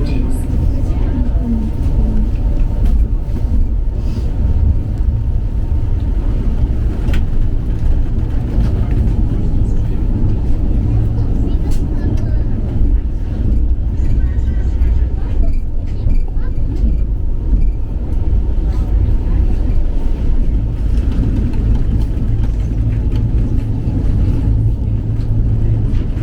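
Rumbling interior of a tram running between Grand Central and West Bromwich in the West Midlands, a continuous low drone of motors and wheels on rails that stays steady and loud throughout.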